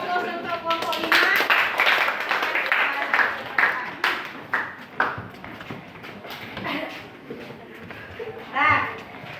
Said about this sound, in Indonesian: kasih aplaus untuk kelompok 5